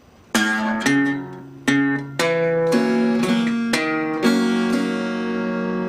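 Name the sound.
country blues guitar sequence played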